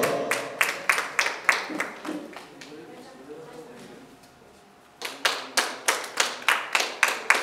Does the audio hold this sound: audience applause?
yes